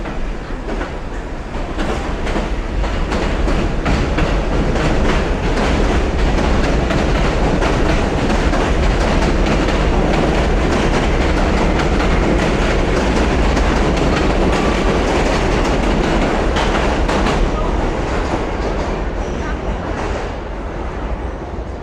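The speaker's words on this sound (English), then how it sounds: "So there will be the sound of a train rumbling at times." An elevated train rumbles continuously overhead with a dense, roaring clatter of wheels on track, loud and steady throughout, at a street festival in Bensonhurst, Brooklyn.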